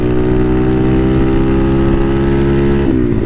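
A motorcycle engine hums steadily in second gear while being ridden, a loud continuous drone with a slight dip in pitch near the end, no talking.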